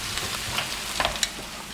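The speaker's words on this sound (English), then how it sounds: "They're sizzling away, so they're all nice and warm." Barbecued hot dogs sizzle in sauce in a pan, a steady close crackling hiss with a few sharper pops.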